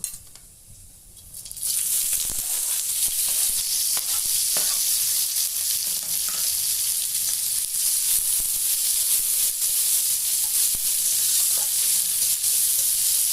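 Chopped onion, tomato and green chili hit hot oil at about 1.5 seconds, setting off a loud, steady frying sizzle that continues without pause, with faint stirring scrapes underneath.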